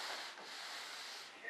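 Sandpaper rubs steadily over filler on a part for a scratch-built RC jet model of an F-105 Thunderchief, a close, continuous dry scraping with no talk.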